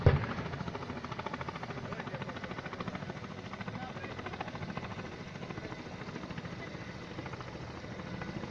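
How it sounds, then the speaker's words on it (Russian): A helicopter's rotor chops steadily in a continuous rhythmic thudding, moderately loud and constant throughout, with faint voices underneath. "Вертолет летает, смотри."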